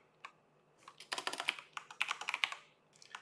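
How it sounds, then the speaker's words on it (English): A loud computer keyboard clacks under fast typing: a single early keystroke, then dense bursts of crisp, close key presses in quick irregular runs. "This keyboard is so loud."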